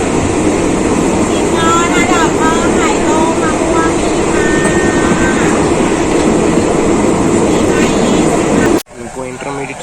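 A rapid train in Thailand runs steadily and loudly from close by, with a continuous rumble, wheel-on-rail rattle and squeals, then the sound cuts off abruptly near the end.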